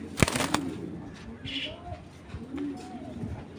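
Homer pigeons, including a black one, coo in low, throaty bursts nearby, with a few wing flaps and a voice heard faintly alongside.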